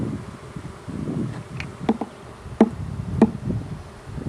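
Honeybees hum low and steady around an opened hive during an inspection, with close, loud passes of individual bees and sharp clicks and taps from a hive tool on the wooden frames.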